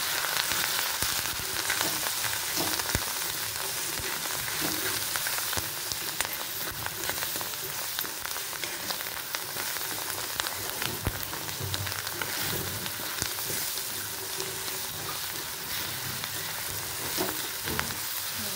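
Moong dal frying in a pan as turmeric, chilli and coriander are stirred and mixed in; a dense, continuous crackling sizzle throughout with occasional soft stirring scrapes, close and steady.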